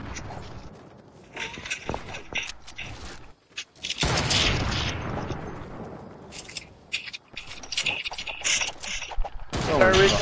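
A SCAR assault rifle fires in a video game in several rapid bursts separated by short gaps, mixed with mechanical clicks and clatter, and a voice talks in between.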